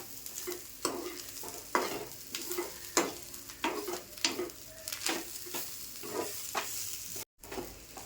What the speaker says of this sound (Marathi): आता हिरवी मिरची आणि बेडगी मिरची घेतली ना, ती सुद्धा यात सुद्धा परतून घेते. सगळं छान असं भाजून घ्यायचं